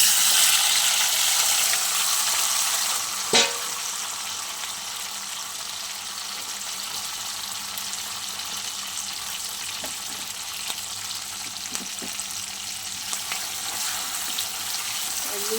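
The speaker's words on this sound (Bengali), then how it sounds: "এই তেলের মধ্যেই দিয়ে দেব টমেটো, পেঁয়াজ, কাশ্মীরি ক্যাপসিকাম।" Tomato, onion and Kashmiri capsicum frying in oil for chili chicken, giving a loud, steady hissing sizzle close up, with a single sharp clink partway through and faint occasional knocks.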